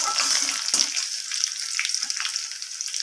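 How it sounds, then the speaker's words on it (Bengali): Seven or eight crushed garlic cloves hiss in hot oil for a cauliflower-leaf dish, a dense, steady sizzle broken by a brief spatter near the start and faint stirring. "সাত আটটা রসুন থেতলে রেখেছিলাম সেই রসুনটাকে দিয়ে দিলাম তেলের মধ্যে"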